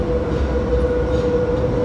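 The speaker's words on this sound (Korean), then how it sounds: "지하철이 바로 와서 저는 타고 이동을 하겠습니다" A subway train pulls into a station, a loud continuous rumble with a steady tonal whine and faint rhythmic wheel clatter, no voices.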